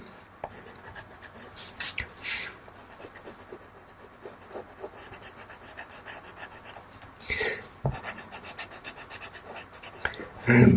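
A white pastel pencil is sharpened in short, close scraping bursts with pauses between, and no voice is heard.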